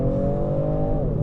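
Genesis G70 3.3T Sport AWD launching hard under launch control, its engine note holding a loud steady drone from inside the cabin with a pitch shift near the end, no talking over it.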